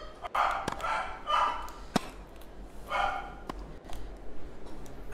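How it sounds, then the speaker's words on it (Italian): A small pet dog barking inside a house: several sharp, separate yaps and yips spaced irregularly across a few seconds, close and fairly loud, with a faint tapping of clicks between them. "Festeggia anche il cane di mia sorella, che è qua in casa, come avete sentito"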